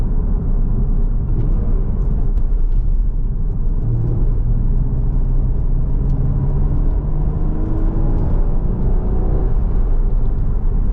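A Porsche Cayman 981 driving on the road, its engine a steady loud rumble and whir inside the cabin with slight pitch rises as it gently accelerates, and no talking.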